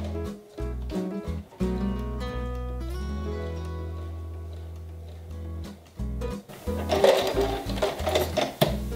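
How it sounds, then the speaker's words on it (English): A sewing machine stitches elastic back and forth along the same line, with short bursts of rapid mechanical whirring separated by pauses and close, clicking handling noises near the end. "just run it back and forth through the sewing machine a few times"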